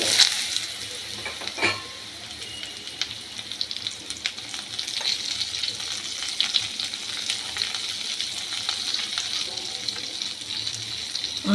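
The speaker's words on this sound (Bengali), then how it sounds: "আঁচ বাড়িয়ে পেঁপেটাকে নাড়ছি এই ফোড়নের সাথে" Papaya pieces stir-fried in oil tempered with cumin, bay leaf and asafoetida give a constant soft frying hiss, with occasional spatula scrapes and stirs close by.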